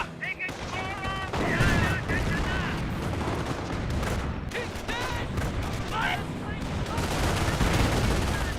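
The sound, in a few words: rifle squad suppressing fire in Company of Heroes video game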